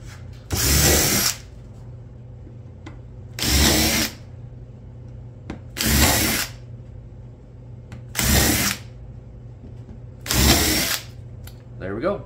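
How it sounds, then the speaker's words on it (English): A power drill fitted with an Amana countersink bit bores countersink holes in wood, giving five separate loud, high-pitched whirring bursts of about a second each, evenly spaced with quiet pauses between. "Now I'm going to countersink some holes with my Amana countersink bit because I don't want the wood to blow out when I put the screws in."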